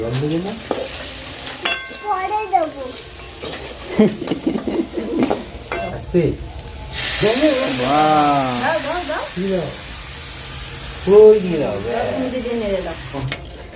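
Food sizzles and fries in a pan, with repeated scraping stirs and utensil clatter up close, while voices talk over the cooking.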